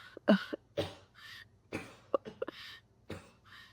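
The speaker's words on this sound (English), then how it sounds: "Pardon me coughing." A person still recovering from a cold coughs several times in a quiet room, with short sharp bursts spread unevenly and heard close, plus a brief throat-clearing rasp among them.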